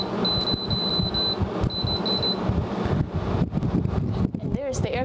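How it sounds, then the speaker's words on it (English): A cooling unit's air compressor kicks on while running from a Marxon G1500 power station, a low mechanical hum under a steady high electronic whine, with someone talking over it. "The compressor goes on now."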